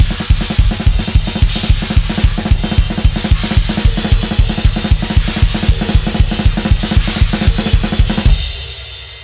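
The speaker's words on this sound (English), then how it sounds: "and then I go on the crashes with the bass drum." A fast, dense drum pattern with rapid bass drum hits under continuous crashing cymbals rolls on loudly and steadily, then cuts off and leaves a ringing cymbal wash.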